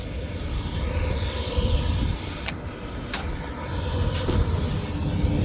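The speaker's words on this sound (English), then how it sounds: "Blower's running." A Lennox furnace blower runs with a continuous low rumbling whoosh of moving air, steady and fairly loud, with a few faint clicks or ticks partway through.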